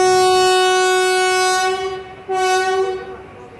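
An express train on the third line near Chennai Egmore sounds its horn loudly and steadily, briefly dipping before sounding again, as it rumbles along the tracks nearby.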